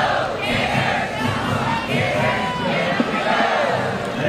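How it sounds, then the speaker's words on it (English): Stadium crowd at a Team USA versus Florida softball game roars and cheers for batter Michelle Moultrie, a steady, loud wash of many voices holding throughout. "Now we should hear a nice round of applause for Michelle Moultrie"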